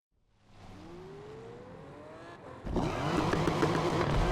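A car in the racing game Need for Speed Unbound revs up with a rising engine whine, then roars harder and louder as it accelerates away, the sound filling out into a dense, steady rush with no talking.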